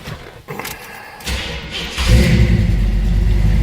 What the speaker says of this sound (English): See how easily it starts, how nicely it runs. Nice little rumble out of it.